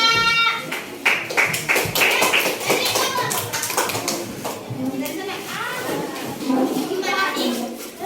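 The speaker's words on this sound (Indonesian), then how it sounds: "Tepuk tangan untuk kelompok 5." A classroom of children claps for a student group coming to the front, a scattered burst of hand claps mixed with kids' chatter and a teacher's voice talking over and after it.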